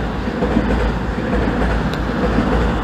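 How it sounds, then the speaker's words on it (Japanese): An express train passes close by in Osaka near JR Bentencho, a loud steady rushing rumble of wheels on rail with faint clicking throughout, and no talk. "次々と特急電車が通過してきている中で"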